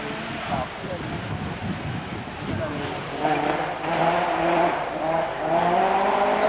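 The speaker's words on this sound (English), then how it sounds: "This is the Opel Manta 400." An Opel Manta 400 rally car races at the 1988 Race of Champions, and its engine note rises and shifts as the tires scrub through a corner. Wind buffets the microphone, and a commentator speaks over the car.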